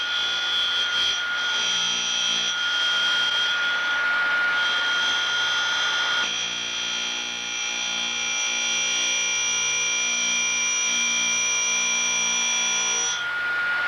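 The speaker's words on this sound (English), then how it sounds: "grind one secondary clearance angle on one flute until the width of the primary angle is the proper size" A Cuttermaster tool grinder sharpens the secondary clearance angle on one flute of an end mill, its loud, steady whine carrying sustained high tones with a slight change in pitch partway through and no talking.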